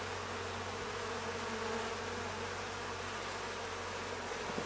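Honeybees hum steadily around an open hive that was recently split from a strong colony, a dense, even buzz close by that never lets up, with no one speaking.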